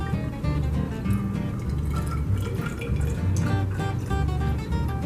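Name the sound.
pouring hydrochloric acid into a cup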